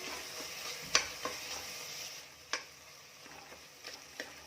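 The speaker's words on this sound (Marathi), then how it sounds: "हा टोमॅटोचा चमच्याने छान स्मॅश करून घेऊया" A spoon mashing softened tomato in a pan for chicken masala, with a few distinct metallic clinks and taps against the pan over a faint, steady sizzle.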